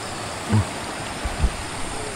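A strong river current rushes over rocks near a waterfall in Famy, Laguna, making a steady broadband wash of moderate, fairly distant flowing water with a couple of small splashes.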